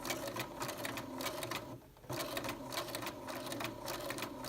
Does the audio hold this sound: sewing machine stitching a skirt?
yes